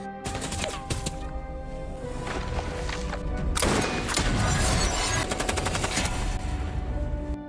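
Rapid gunfire from a film's sniper battle scene, with sharp overlapping shots and bursts crackling densely throughout, loud and close, sounding like a sustained exchange of fire rather than single clean shots.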